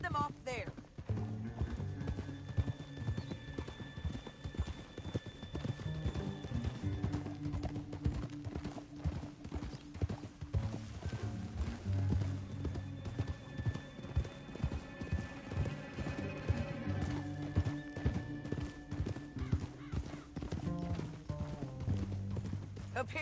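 Horse hooves clip-clop steadily through a Red Dead Redemption 2 scene, with an occasional whinny, under a music score throughout.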